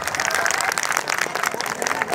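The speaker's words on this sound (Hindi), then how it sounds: "अरे जोरदार ताली इनके लिए" An audience at a political party gathering applauding, a dense burst of clapping that fills the short moment without pause, moderately loud, with some crowd noise mixed in.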